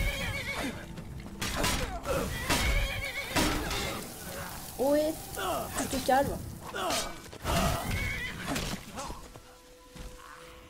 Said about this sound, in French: Mon cheval!